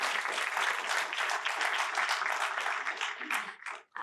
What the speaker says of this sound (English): can we get a big round of applause for our reality shakers